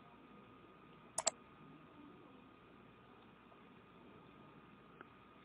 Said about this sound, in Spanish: Hacemos un clic allí.